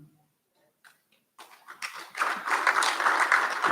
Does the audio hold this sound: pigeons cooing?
no